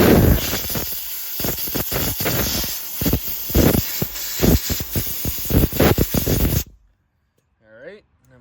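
Compressed air blown through an engine part to clear out debris: steady loud hissing with repeated sharp bursts for several seconds, then silence before someone speaks.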